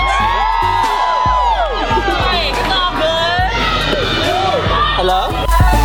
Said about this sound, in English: There's a big crowd behind me.